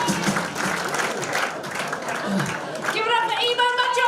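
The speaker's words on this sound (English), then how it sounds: "Keep the round of applause going for me." Sustained audience applause and cheering at a live stand-up comedy competition fill the clip, a dense wash of clapping with voices mixed in, steady and fairly loud throughout.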